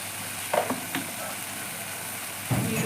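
Masala spices for dal makhani fry steadily in oil with a constant close hiss and sizzle, broken by a few soft scrapes and stirs of a spoon in the pan, with no talk.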